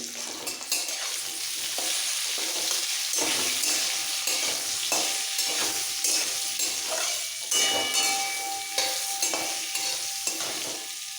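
Spices and salt, including turmeric, being stirred into a frying chutney of ripe jujube (kul) in a pan, giving a steady sizzle with repeated scraping and stirring strokes, close and fairly loud with no talking.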